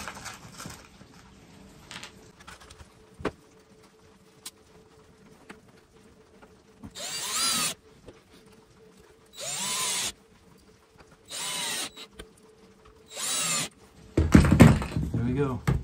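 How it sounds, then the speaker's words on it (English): A power drill drives screws into a PVC pipe cover, sounding as four or five separate close whirring bursts, each about a second long, between quiet pauses. "So let me put the screws in"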